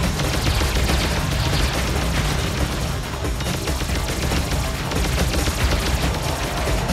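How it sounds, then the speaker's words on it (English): Homing missiles launching in the Alien Shooter video game, a dense, unbroken barrage of loud firing and blasts lasting the whole stretch with no talking. "they fire homing missiles"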